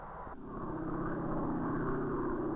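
Observation, weather and instrument planes taking off from an island base, heard as a steady, fairly loud propeller-engine drone that swells slightly and holds without any talk.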